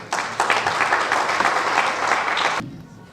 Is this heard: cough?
no